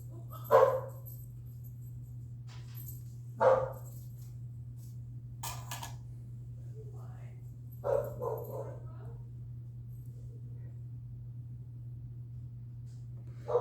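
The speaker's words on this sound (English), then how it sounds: "Amid the barking dogs" Dogs bark in scattered short bursts, a few sharp yips a few seconds apart, set against a steady low electrical hum in a room where a vintage Lotus L700B bass is being soldered.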